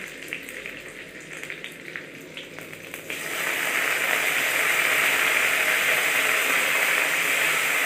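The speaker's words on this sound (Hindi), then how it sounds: "अब मैं इसमें टमाटर डालती हूँ" Tomatoes drop into a hot pan for egg bhurji, and a steady, close sizzle swells up and holds loud and even after a few quieter clatters.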